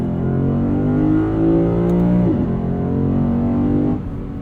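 A 2022 Lexus IS 500 with its V8 exhaust droning steadily while driving, rising in pitch then dropping through a gear change, loud and close with no talk over it.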